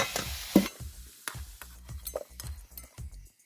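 Potatoes fry in hot oil while being turned: a hissing sizzle at the start, followed by a series of scraping, clinking strokes of a utensil against the pan at an uneven rhythm.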